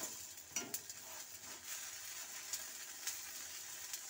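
Flour and vegetable flatbread frying in a pan, giving a steady low sizzle with a few soft scraping clicks of a utensil, close and fairly quiet throughout.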